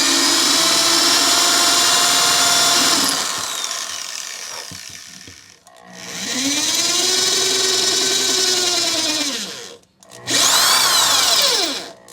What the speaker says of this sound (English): Got our hole drilled.